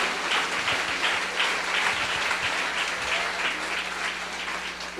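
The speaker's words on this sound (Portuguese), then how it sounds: "dá um aplauso ao Rei dos Reis e Senhor dos Senhores" A church congregation applauds at an evangelical service, sustained and full for several seconds, with many hands clapping at once, some individual claps standing out near the front, and no voices over it.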